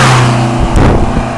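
A Greyhound PD-4501 Scenicruiser GMC coach rushes past close by, a loud brief roaring whoosh of engine and wind that peaks and fades within a second or so.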